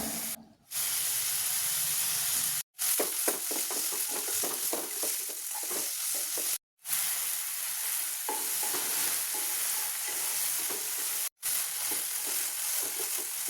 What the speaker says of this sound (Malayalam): ഈ ഒരു ചിക്കന് നമുക്കൊന്ന് ഫ്രൈ ആക്കി എടുക്കാം